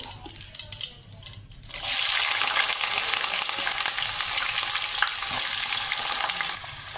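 Chopped onions, three large ones, hit hot oil already spiced with cinnamon and bay leaves for a yogurt-chili chicken: a steady, loud sizzle swells up and holds after a brief quieter start, with no voice over it.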